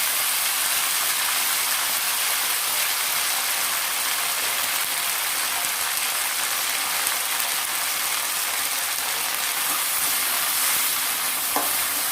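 Fenugreek leaves frying in hot oil give a steady, close sizzle with occasional stirring scrapes, continuous and without talk.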